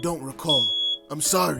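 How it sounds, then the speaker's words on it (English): Smoke alarm beeping in an Injustice 2 cutscene, a steady high electronic tone sounding between lines of dialogue, with voices talking over it. "That noise is a smoke alarm."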